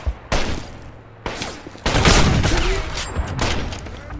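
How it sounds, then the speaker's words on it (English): Suppressing fire in the Wolfenstein video game: bursts of gunshots at close range, with loud volleys around half a second and again from about 1.3 and 1.9 seconds on, then steady overlapping fire to the end. "I need suppressing fire!"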